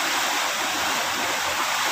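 Floodwater rushing during Typhoon Carina in a flooded residential area: a steady, dense roar of fast-moving water, loud and continuous with no pauses.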